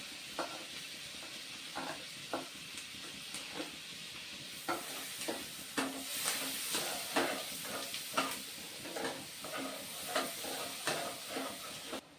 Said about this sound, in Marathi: तो लसूण आपल्याला छान भाजून घ्यायचा आहे